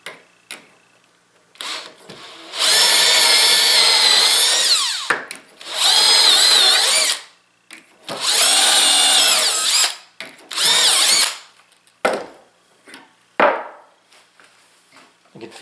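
Power drill boring through plywood for a bench plane rack, four loud whining bursts of a few seconds each with short pauses between, close up.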